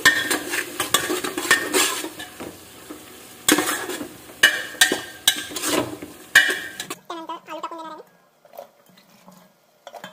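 Pav bhaji with added salt is stirred and mashed in a pan, giving repeated loud metal clanks and scrapes over a steady sizzle. The stirring stops and a voice speaks briefly in the quieter end.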